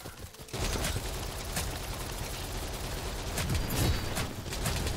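Gunshots from the video game KILLBUG form a dense, continuous rattle of rapid fire that begins abruptly after a brief quiet moment and stays loud to the end.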